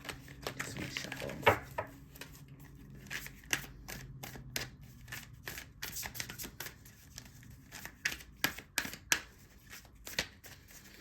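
Quiet, irregular bursts of a deck of oracle cards being shuffled by hand, soft papery riffles and taps coming in quick clusters at close range.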